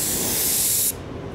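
Candy paint hisses from a spray gun onto a moped in one loud, close, continuous burst that cuts off abruptly just under a second in, leaving a quieter background.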